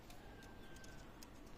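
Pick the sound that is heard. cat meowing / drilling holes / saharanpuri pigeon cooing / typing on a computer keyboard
saharanpuri pigeon cooing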